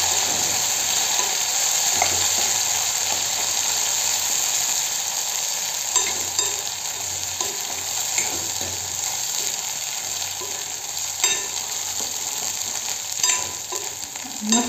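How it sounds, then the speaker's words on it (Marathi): Masala sautéed with dried Bombay duck in a pan gives a steady, close sizzle with occasional scraping and stirring clatter, continuous throughout and with no voices. "मसाला याच्यातच टाकायचा. आता मस्त परतून घ्यायचा."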